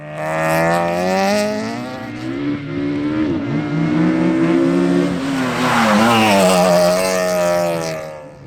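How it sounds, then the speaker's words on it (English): Rear-wheel drive rally cars at a sprint championship slide on damp, slippery tarmac, with loud revving engines rising and falling and tyres squealing close by through the run. "These damp, slippery conditions should work in John's favour, as the rear-wheel drive cars will slide about."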